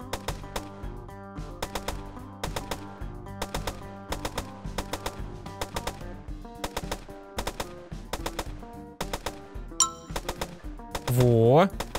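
Rapid bursts of game gunfire crackle in repeated volleys, interspersed with musical tones and a rising electronic whine near the end.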